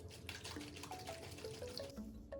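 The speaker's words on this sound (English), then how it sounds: "We're gonna take our hot simple syrup water, pour it right in" Hot simple syrup being poured into a bowl for zero-calorie marshmallows, a steady liquid splash and trickle with brief rising gurgles, moderately faint and alone.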